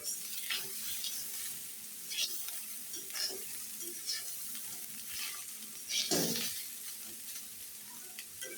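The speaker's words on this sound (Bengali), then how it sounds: "মাছ দেওয়ার পরও কিছু সময় ভেজে নিব" Small fresh fish fry in a pan with potato and pointed gourd, giving a steady close sizzle broken by the occasional scrape and clink of stirring, with no talk.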